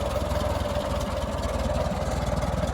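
A tractor engine runs while being driven, producing a steady, close, rhythmic low chugging with an even throb and no pauses.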